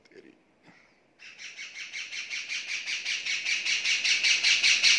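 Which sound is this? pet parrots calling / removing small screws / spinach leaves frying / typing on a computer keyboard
pet parrots calling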